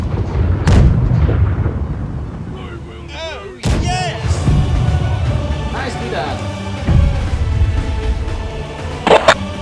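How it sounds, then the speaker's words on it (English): Ship cannons firing in the pirate video game Blackwake, a few heavy booming blasts with rumbling tails and a sharp crack late on, loud and close, while players talk over it. "Looks like cannon's fire."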